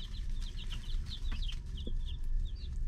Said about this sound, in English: These are our Icelandic chicks.